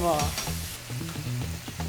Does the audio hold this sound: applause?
no